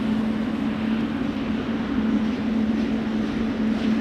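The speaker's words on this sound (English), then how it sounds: "Should hear a big old 777 lining up right to your right, sitting there purring away" A steady, droning hum of Boeing 777 jet engines idling at a distance while lined up for departure, with a constant low tone and no voices.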